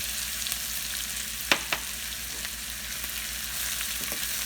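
Green chillies and curry leaves fry in hot oil for a khandvi tempering, a constant close crackling sizzle with a couple of sharp pops or stirring knocks partway through.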